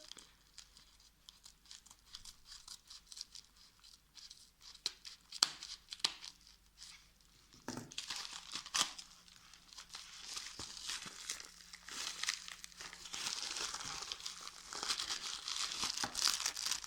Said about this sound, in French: On va faire avec les ciseaux.